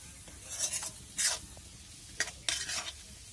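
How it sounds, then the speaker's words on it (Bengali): Small kuche fish stirred and frying in spice paste in a village-style kitchen, with soft sizzling and several brief bursts of scraping as the pan is worked, fairly quiet and without talk. "মাংসটাকে এবার কষবে, কুচো মাছটাকে।"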